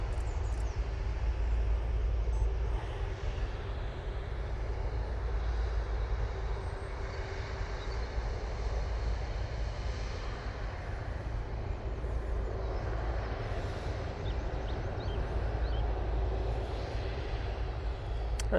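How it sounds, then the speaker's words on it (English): A Ryanair Boeing 737 MAX 8 departing Manchester Airport for Verona, its jet engines a steady, fairly distant broadband roar with a deep low rumble, holding even for the whole stretch without pause. "that Ryanair MAX was going off to Verona"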